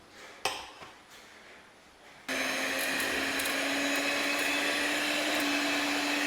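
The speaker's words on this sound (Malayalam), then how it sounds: "കുറച്ച് മിൽക്ക് മെയ്ഡ് ഒഴിച്ചു ഇനി നമുക്ക് നന്നായിട്ട് ഇതൊന്ന് ബീറ്റ് ചെയ്ത് കൊടുക്കാം" An electric beater whirs loudly and steadily as it mixes mango with condensed milk for ice cream, starting abruptly after a few soft kitchen clatters.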